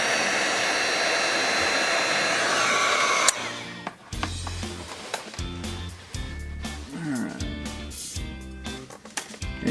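A heat gun blows a steady, loud rush of air for a few seconds while a door sill graphic is being installed on a car, then stops, followed by scattered handling knocks and rustles nearby.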